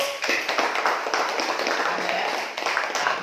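A school class applauds, with many hands clapping in a dense, steady burst that lasts a few seconds and stays fairly loud throughout.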